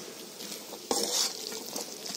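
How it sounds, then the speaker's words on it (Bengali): Grated coconut stirred in a frying pan, a soft sizzle under a scrape of the spoon, then a brief sharper clatter, close and moderately loud with no talking. "যেটাকে আমি আরও মিনিট 2 মতো নেড়ে দেবো"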